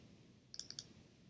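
A computer mouse gives four quick, crisp clicks in an even run, close and fairly quiet against a faint background.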